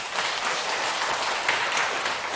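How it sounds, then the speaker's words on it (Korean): Steady applause from an audience at a Korean Buddhist dharma talk, dense and continuous clapping holding at an even level for a couple of seconds with no voices over it. "박수 한번."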